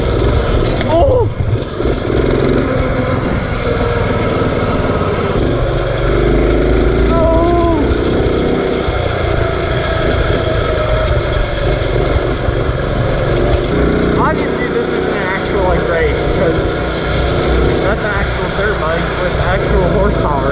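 Mini bike powered by a roughly 6-horsepower generator engine drones loudly and continuously while riding, its buzzing exhaust rising and falling with throttle over wind noise.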